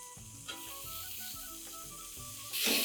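Tomatoes dropped into a pan of frying onions for millet khichdi, a quiet sizzle with soft rhythmic scraping strokes, swelling into a louder hiss at the end.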